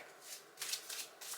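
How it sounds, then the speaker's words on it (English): Cards being shuffled in quick riffling bursts, three or four rapid flutters separated by brief pauses, close up and fairly quiet. "I'm going to keep shuffling."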